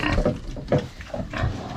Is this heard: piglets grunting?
yes